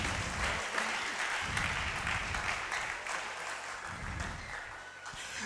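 A church congregation applauds steadily through the whole stretch, a dense, sustained wash of clapping at moderate level with no talk over it.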